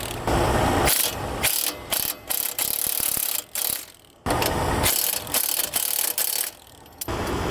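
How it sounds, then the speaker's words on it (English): Axle nuts on a 2007-2014 Nissan Altima passenger-side axle are tightened with a 21mm wrench and socket on a breaker bar, heard as loud, close bursts of rapid ratcheting clicks with short pauses between strokes. "to torque them down, you're going to need to either have 2 wrenches or one 21mm wrench, and then a socket with a breaker bar"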